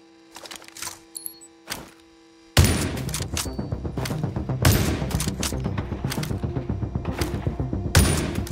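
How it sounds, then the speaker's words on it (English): Sniper rifle fire in the mobile shooter The Division Resurgence: a few faint clicks, then from about halfway a loud, steady run of sharp shot cracks with no talking. "Let's see how you perform with a sniper rifle."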